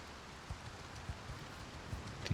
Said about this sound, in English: It's so rainy.